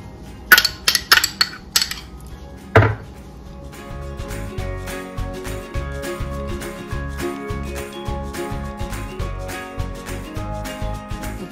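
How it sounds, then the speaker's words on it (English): Salmon salsa ingredients and onion are mixed in a bowl: a few sharp clinks come first, then a long run of steady, rhythmic mixing strokes and scrapes, close and moderately loud, with no talking. "Now I'm gonna mix this"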